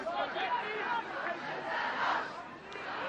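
Crowd of rugby supporters at an interschools match between Paul Roos and Paarl Gim, a rising, swelling roar of cheering and shouting voices, fairly distant and continuous.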